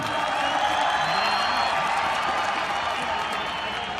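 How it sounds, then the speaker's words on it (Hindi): A stadium crowd at the first opening cricket match of the International Cricket Stadium in Dehradun, Uttarakhand, applauds the players with dense, steady clapping and cheering that fills the whole stretch, loud and continuous, with voices mixed into the roar. "बहुत जोरदार तालियां, शानदार प्रदर्शन"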